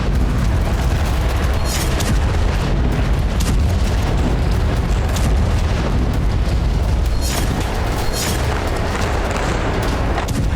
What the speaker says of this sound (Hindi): ऐसे में अस्पताल के आसपास लगातार धमाके हो रहे हैं।